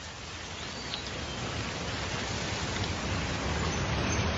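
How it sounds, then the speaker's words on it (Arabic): Steady rain falls in a nature sound effect, a dense, even hiss of drops that holds at a constant moderate level throughout with no voices. "الصوت اللي انت سمعته ده يعتبر مؤثر صوتي، اللي هو صوت المطر والطبيعة"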